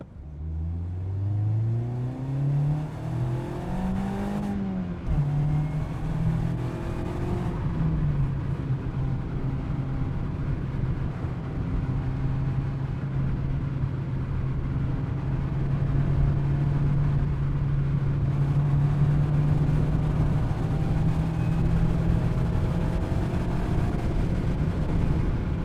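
A 2025 Mazda MX-5 Miata's engine accelerates through a sustained pull, the tone climbing steadily, dropping at gear shifts, then climbing again, loud and continuous from inside the car with no talk.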